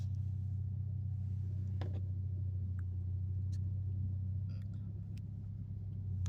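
Steady low engine rumble of heavy road traffic in Bangkok heard from inside a taxi, continuous and muffled, with faint higher clicks and noises now and then.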